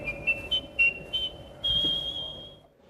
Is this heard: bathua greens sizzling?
no